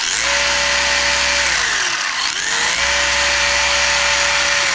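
Electric motor of a Team Associated Reflex 14b RC buggy revved on the bench, a loud close whine that holds steady, dips briefly as throttle is released, then climbs back and holds again, with no talking.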